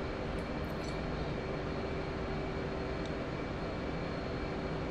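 A fighter jet engine roars at full power during a carrier takeoff in DCS World, a dense, steady, loud rush that holds unchanged throughout with no talk over it.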